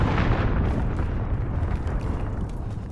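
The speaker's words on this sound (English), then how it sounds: "Allied cruise missile away" A cruise missile strike in Call of Duty Modern Warfare erupts as a loud, sustained explosive roar that fills the whole clip, rumbling heavily and fading only slightly toward the end.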